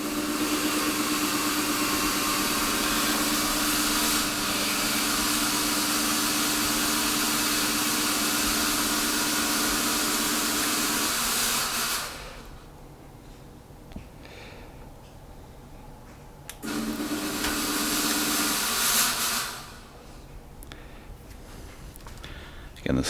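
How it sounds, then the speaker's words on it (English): Halloween ground fog machine with an ultrasonic mister, run without ice, giving a steady loud broadband hiss for about twelve seconds, then stopping, with a second shorter burst of spray later. "You're going to run the fog machine and see what happens."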